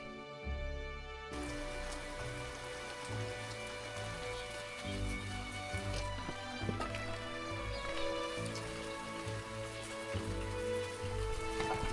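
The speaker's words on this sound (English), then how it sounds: "It has been raining for the last 3 days" Steady rain patters continuously on an off-grid homestead in Portugal, under a soft, sustained musical background, with no voices.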